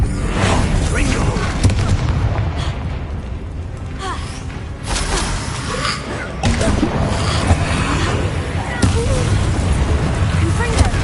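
Continuous rumbling fire-curse explosions and magical combat in Hogwarts Legacy, dense and loud throughout with bursts and booms layered over shouted speech.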